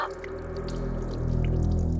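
Water runs in a bathroom, a steady rushing flow with a low hum beneath it that grows slightly louder, with a few faint drips on top and no voices.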